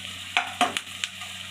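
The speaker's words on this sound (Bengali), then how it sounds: "লাল লাল করে একটু বেরেস্তা মতো করে আমি ভেজে নেব পেঁয়াজগুলোকে" Onions sizzle in hot ghee in a pan as they are fried until reddish-brown, with a steady hiss broken by a few sharp stirring clicks and scrapes, close by and with no voices.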